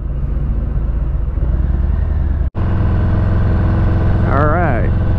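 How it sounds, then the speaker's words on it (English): A Harley-Davidson Deluxe motorcycle engine rumbles loudly and steadily up close, idling with a deep throbbing tone throughout, briefly cutting out for an instant. "you can hear this motorcycle."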